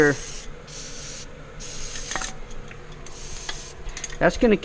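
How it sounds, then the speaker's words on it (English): Fluid Film rust protection sprayed onto a bolt during a Chevy 2500 HD brake job, heard as several short hissing aerosol bursts in quick succession, close and moderately loud, followed by faint metallic handling sounds. "you're going to coat this with the fluid film"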